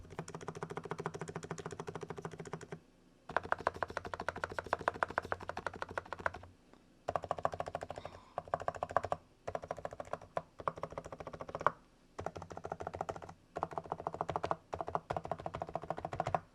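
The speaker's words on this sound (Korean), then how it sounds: "자, 그러면 이제 본격적으로 키보드 타건 한번 해보도록 할게요." Close, rapid clacking of an Archon E1 Pro Max keyboard in steady bursts, broken by brief pauses, with no voices.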